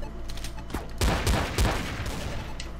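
Gunfire in Counter-Strike: Source during a Gungame match, a quiet, rapid volley of several sharp shots clustered in the middle, with a couple of louder cracks over a steady low background.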